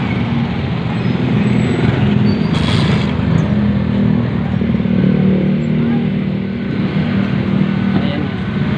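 A Yamaha Aerox scooter moves past in heavy Philippine evening traffic. Its engine drone blends into a continuous roar of nearby vehicles, with a brief louder burst partway through and muffled voices close by.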